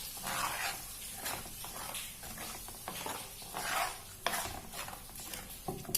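Chicken fry masala sautéing in oil, a soft continuous sizzle with a spoon stirring and scraping in the pan at a moderate distance, fairly quiet with no talk.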